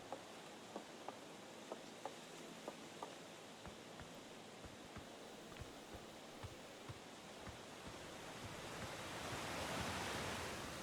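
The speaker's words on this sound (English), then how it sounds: "Nice little waterfall." Waterfall in the video game Outer Wilds, a steady broadband rush of falling water that swells louder toward the end, with faint periodic clicks and no talk.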